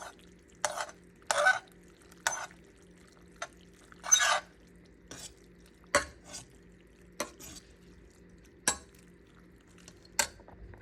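A spoon stirring shrimp pasta in a pot or pan, giving brief scraping and clinking strokes at an irregular pace, close and fairly quiet, with short pauses between strokes.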